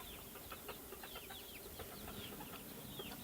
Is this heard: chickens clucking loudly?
yes